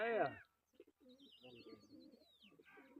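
A pigeon at a pigeon-flying contest gives soft, faint cooing calls across a few seconds, with a thin whistle overhead, after a short loud vocal burst at the start.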